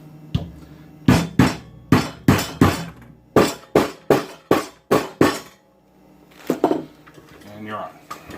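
Metal friction nut tapped onto the leg of a Weber Jumbo Joe Premium charcoal grill during assembly: about ten sharp, evenly spaced knocks, close and loud, followed by a few softer clatters.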